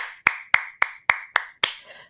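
Six crisp, evenly spaced claps ring out in a slow, deliberate rhythm, close and clean against silence, each with a short bright decay.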